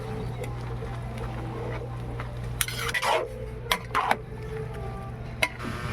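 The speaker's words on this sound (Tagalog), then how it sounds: "Haluin natin guys para maghiwa-hiwala yung mga pansit guys." One kilo each of pancit kanton and bihon noodles being stirred in a pan: soft scrapes and a few sharp utensil clinks against the metal over a steady low kitchen hum.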